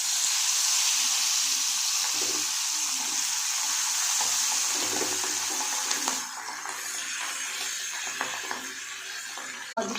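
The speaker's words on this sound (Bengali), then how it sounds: "মাছগুলো ভেজে নেবো। দেখো তেলটা গরম হয়ে গেছে" Pabda fish frying in hot oil, a steady close hiss and sizzle that runs throughout, easing slightly partway, with no talking.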